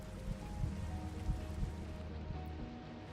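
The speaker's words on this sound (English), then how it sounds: "Is it raining? It's raining. Of course it's raining." Steady video-game rain patters on surfaces in a soft, continuous hiss with faint scattered drops and no voices, during a game session in Logs to Legends.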